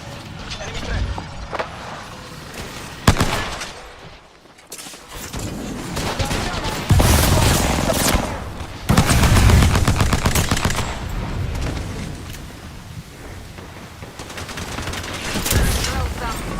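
Bursts of automatic gunfire and grenade blasts from a shooter video game crackle in uneven volleys, loud and close. Quieter gaps fall between the bursts, and a player talks over the action.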